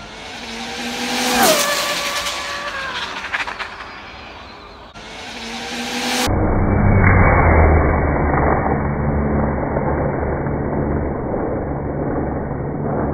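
An Arrma Limitless RC car on a night speed run, fitted with a Castle XLX2 controller and a 1717 1650kv motor, whines loudly and rises in pitch as it passes. A broader roaring rush of engine and road noise follows and lasts to the end.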